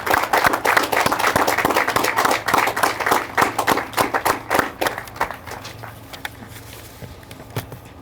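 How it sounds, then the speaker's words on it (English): A large audience applauds police community service award recipients at a public safety award ceremony, dense clapping that fills the room for several seconds and then thins out and fades. "how about a round of applause for Police Division Community Service Award recipients?"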